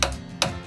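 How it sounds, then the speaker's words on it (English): Two light metallic taps land on a generator's carburetor float bowl about half a second apart, close and fairly soft over a low hum. "Just tapping the float bowl"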